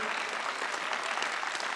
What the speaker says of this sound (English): one more round of applause for all of our speakers here today